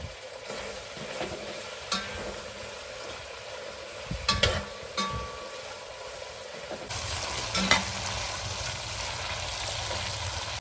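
Large chunks of meat fry in a cauldron with smoked brisket for bograch, a soft continuous sizzle with occasional clinks and scrapes, quiet and alone.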